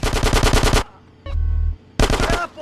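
Automatic gunfire in Grand Theft Auto San Andreas: a loud, rapid burst lasting under a second, a short low rumble, then a second burst of rapid shots.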